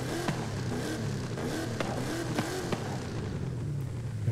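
The engine of a Toyota Tacoma TRD drift build revs up and down in repeated rising and falling sweeps, with occasional sharp clicks over a constant background noise.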